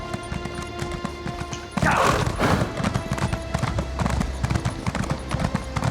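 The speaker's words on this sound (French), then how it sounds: "il court presque aussi vite que moi avec son cheval" A horse gallops in The Elder Scrolls Online, with rapid rhythmic hoofbeats running throughout and a louder burst of movement partway through, heard close and loud under game sounds.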